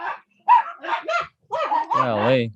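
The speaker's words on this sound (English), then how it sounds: "I'm sorry about the dogs barking." Several dogs bark and yip close by in a quick burst of overlapping barks, with a whimpering, howling note at the end, while someone briefly speaks over them indoors.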